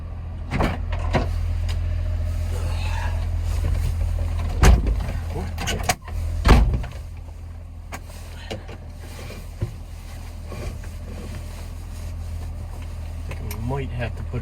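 Tires on a mini truck drone steadily from inside the cab while it drives over a frozen road at 25 degrees, with a few sharp clicks and thumps breaking in.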